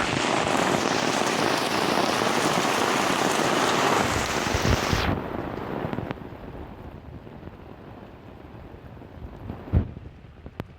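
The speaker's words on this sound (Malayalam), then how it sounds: "ഭയങ്കര നീളമുള്ള മഴയായിട്ട്" Heavy rain pours over a paddy field in a dense, loud roar, then abruptly thins to a softer, steady patter with occasional close taps and wind buffeting on the microphone.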